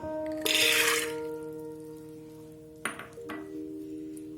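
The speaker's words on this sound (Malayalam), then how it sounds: "1 ഗ്ലാസ് വെള്ളം ഒഴിക്കുക കേട്ടോ." Water poured into a pressure cooker of soaked black chickpeas, a brief loud splashing burst near the start, then quieter clinks and knocks of the pot against a steady background hum.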